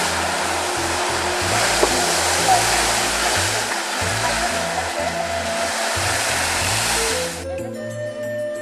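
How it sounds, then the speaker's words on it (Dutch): Geysers bubble and spout across Yellowstone's Norris Geyser Basin, a steady rushing hiss of water and steam over low, stepped music, breaking off near the end. "In een warm maanlandschap zien we meerdere grote en kleine geysers bubbelen en spuiten"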